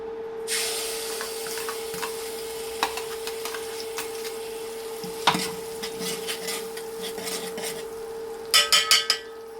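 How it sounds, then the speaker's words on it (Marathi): Ground spice paste frying in hot oil in a pot for a village-style val bean curry: a steady, close sizzle with scattered stirring scrapes and a quick burst of clatters near the end. "त्यानंतर हे जे आपलं वाटण आपण बारीक केलेलं आहे ते त्यामध्ये आपण आधी टाकणार आहोत।"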